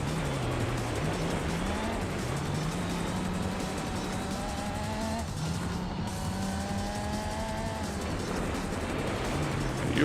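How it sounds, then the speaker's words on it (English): A race car engine in the Gran Turismo 4 video game drones steadily, rising and falling in pitch through gear changes and corners, with a faint tire squeal underneath and no talking. "You have no idea how much I hate hearing the sound of your engine."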